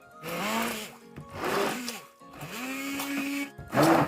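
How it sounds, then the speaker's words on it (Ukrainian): A blender whirs in repeated bursts, its motor pitch rising and falling as it churns thick pumpkin and cottage cheese batter with flour, with short pauses between pulses. "І знову нам все потрібно гарно взбити блендером."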